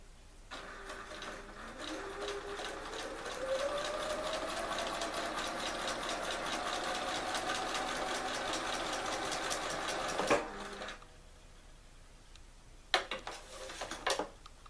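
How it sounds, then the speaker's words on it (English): Sewing machine stitching a paper-pieced quilt border, a fast continuous mechanical whirr that starts up, runs steadily for several seconds and stops, followed by a few soft handling clicks; close and without talk. "Next I'm going to sew the A1 to A3 border right here."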